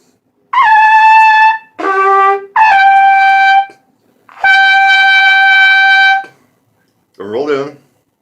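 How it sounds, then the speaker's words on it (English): A trumpet pushes out high notes played with the lips rolled in but no tongue arch, giving a forced, strained tone; four sustained blasts with short gaps, loud and close, then a brief rough final squeak. "the hallmark of somebody who is not doing the tongue arch properly is a very forced and strained sound"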